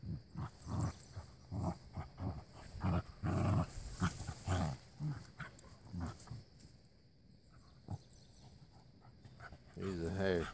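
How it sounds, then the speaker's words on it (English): Dogs, one a Jack Russell and bird dog mix, growling and snarling in bursts as they play-fight, with a person's voice speaking among the noises, ending in a rough growling flurry. "Oh, Riley loves to fight."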